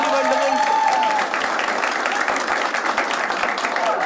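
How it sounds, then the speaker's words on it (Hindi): A studio audience on a comedy game show applauds its panel. Steady, energetic clapping runs throughout, with some brief whistle-like tones and voices mixed in near the start. "एक बार जोरदार ताली हो जाए हमारे पैनल के लिए।"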